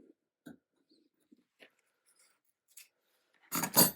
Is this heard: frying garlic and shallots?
no